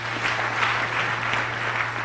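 Steady crowd applause at a ground in Murang'a, dense continuous clapping from many people over a low electrical hum, with no talking heard.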